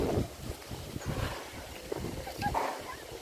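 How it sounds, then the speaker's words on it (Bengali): Strong gusty wind sweeps through swaying trees ahead of Cyclone Remal, a rushing, uneven roar with microphone buffeting and faint voices in the background. "দারুণ হাওয়া দিচ্ছে, গাছগুলো সব নড়ছে"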